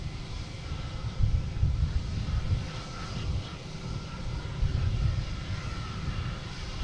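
A Hawker business jet approaches to land at Boston Logan, a broad low engine roar with wind rush that swells and eases twice at a moderate distance, with no voices.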